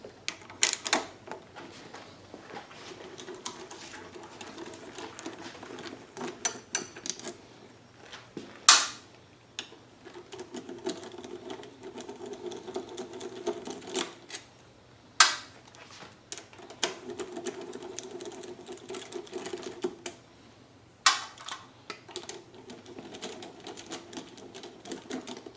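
Small valve cover bolts being loosened on a Predator 3500 inverter generator, with repeated light ratcheting clicks in short bursts and a few sharp taps between them, close by and fairly quiet.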